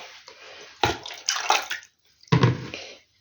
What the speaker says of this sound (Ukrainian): От, повну баночку заливаю.